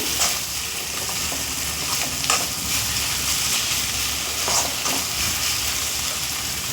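Fish curry made with bocha fish cooks in a pan while being mixed, a steady moderate sizzle with intermittent scraping stirs and light clinks, close and wordless.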